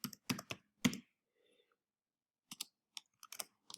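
CSS media query code being typed on a computer keyboard: short bursts of crisp, close keystrokes, a pause of near silence, then another quick cluster of clicks.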